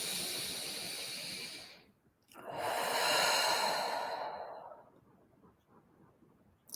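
Slow, deep breathing during a guided meditation: a long inhale, a brief pause, then a fuller exhale that fades away, close and soft with no talking.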